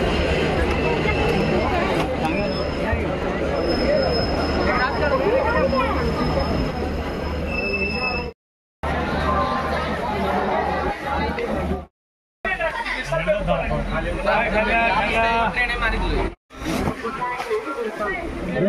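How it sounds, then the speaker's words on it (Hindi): A train runs through Hansdiha railway station amid a busy crowd, with loud continuous rumbling, rattling and a high wheel squeal, broken by brief dropouts, while many voices chatter throughout. "तो आ चुके हैं हंसडिया रेलवे स्टेशन।"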